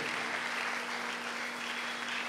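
Congregation at a French-language church service applauding together, a dense, steady wash of clapping that fills the room at even loudness throughout.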